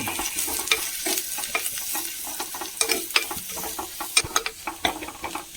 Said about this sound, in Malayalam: ഒരു 3/4 സ്പൂണ് മുളക് പൊടി കേട്ടോ. ഇതും കൂടി ചേർത്ത് ഒന്ന് ഇളക്കി കൊടുക്കാം